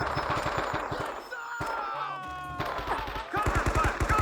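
Soldiers' rifles in the Men of Valor Vietnam game crack out rapid automatic bursts at the start and end, with shouting voices and combat noise in between.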